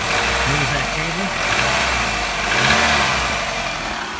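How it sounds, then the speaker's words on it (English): Car engine revving up and down as the gas pedal is pushed, after a sticking throttle body was cleaned; a steady mid-pitched engine drone swells under someone talking. "as you push the pedal, this is what happens. So the engine revs up"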